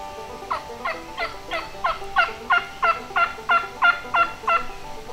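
Wild turkey in Hawaii gobbles in a rapid run of about a dozen rattling calls, building in loudness and fading slightly at the end, clear and fairly close with no talking.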